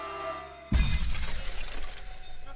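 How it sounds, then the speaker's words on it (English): A wine glass drops and shatters in a scene from the Speed Racer movie, a sudden loud crash followed by a bright spray of breaking glass and debris that lingers for about two seconds. "Can the wine glass drop scene get some love?"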